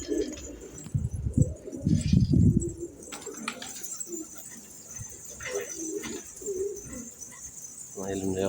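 A young stray pigeon with white patches lands nearby and coos softly in short repeated bursts, close and fairly faint, with occasional wing flutters and someone talking quietly at times.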